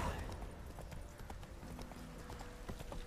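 Horse hooves clip-clop in a steady trot in The Witcher 3, a quiet rhythmic beat of hoof strikes that runs throughout while people talk over it.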